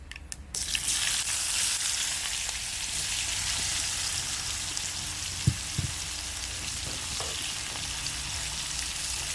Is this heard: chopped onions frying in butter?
yes